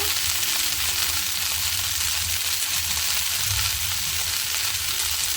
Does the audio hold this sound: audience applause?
no